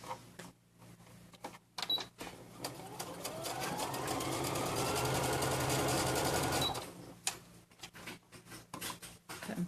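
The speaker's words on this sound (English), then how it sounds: "I'm just going to sew it straight down" A sewing machine stitches straight down fabric with cording inside for a toddler purse: a few short bursts of needle clatter, then a steady close run of several seconds before it slows and stops.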